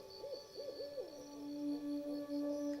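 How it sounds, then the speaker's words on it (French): An owl hoots in a steady series of soft, tonal calls against a quiet nighttime background, with no voices. "un hibou sur une branche. C'est la nuit. Le hibou regarde partout."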